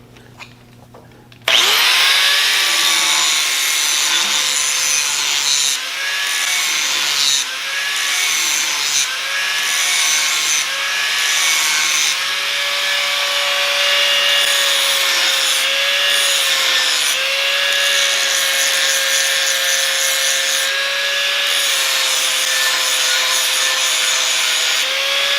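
Hand plane shaving along the edge of a wooden straightedge, a long, loud, steady scraping hiss with a thin ringing tone, rising and dipping slightly through repeated strokes, close and without speech.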